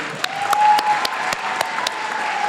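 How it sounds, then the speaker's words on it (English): A brief burst of applause at a high school Black History Month assembly, with scattered sharp claps over a faint steady hum, without any talking. "We want to give a huge round of applause for our special guest, Mr. Rondo Cooper."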